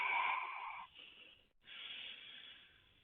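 Slow breathing through a slightly constricted throat during a relaxation exercise: a long, hissy, airy exhale, a short pause, then another soft breath, close and quiet.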